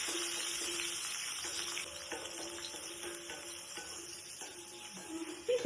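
Green chili and onion frying in a pan, a continuous soft sizzle with scattered scraping taps of stirring and a couple of louder knocks near the end.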